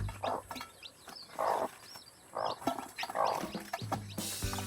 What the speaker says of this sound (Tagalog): nagpaparami na po tayo ng manok dito